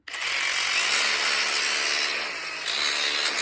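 A power grinder scours rust off Honda brake parts with a loud continuous high whine that dips briefly and then picks back up, close by and with no talk.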